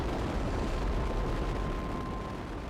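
A rocket engine fires to launch a satellite in a spaceflight game, a steady, loud, broadband roar that holds without letup from start to end.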